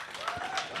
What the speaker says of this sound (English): I will need you to clap as loud as you can